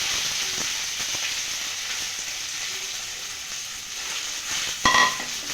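Boiled, salted potatoes sizzle in hot oil with mustard seeds, chilli and a curry leaf, giving a steady, even frying hiss; a brief utensil scrape and clink comes near the end.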